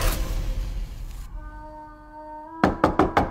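A bedroom door is knocked on in a horror film: four quick, firm raps close together. They come after a ringing musical drone and a noisy rumbling passage.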